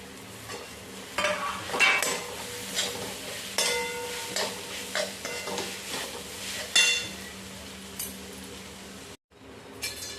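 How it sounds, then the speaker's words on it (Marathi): Boiled khurasani wild greens being stirred in a pan, with repeated scraping and clinking of a utensil against the pan in irregular strokes, close by and with no talk. "आता उकडलेली भाजी टाकायची आणि व्यवस्थित हलवून घ्यायचं आहे"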